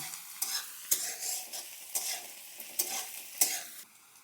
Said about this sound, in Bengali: পেঁয়াজটা হালকা একটু ভাজা হয়েছে